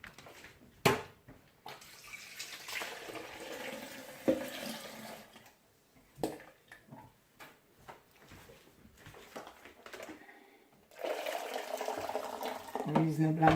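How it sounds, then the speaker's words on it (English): Hot and cold water poured into a blender for cornmeal porridge, heard as faint running and splashing in uneven bursts separated by quiet gaps and clicks, with a stronger pour swelling near the end. "Reasonable amount of hot water, reasonable amount of cold water, and that will do."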